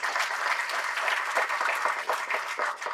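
A dense, continuous wash of audience applause fills a film trailer launch event hall, steady and even throughout.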